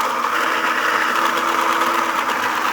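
A Saeco espresso machine grinds coffee beans with a steady, close mechanical whirr and buzz that holds even throughout without pauses or talk.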